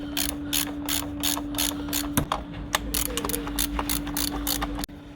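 A ratchet wrench clicks rapidly and steadily while bolts are tightened on the manifold of a 2015 Hyundai i30 engine, close and alone over a low steady hum, ending with a sharp knock.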